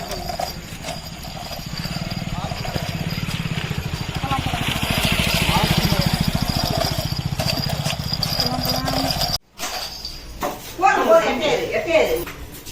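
Engines of vehicles rolling past one after another at a village Aadi festival procession in Tamil Nadu, a steady rumbling drone swelling and fading under a speaking voice and crowd noise.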